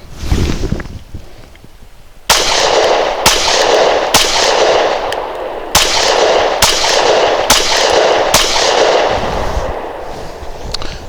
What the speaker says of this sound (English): Seated, let's see if the gun can run full mag +1.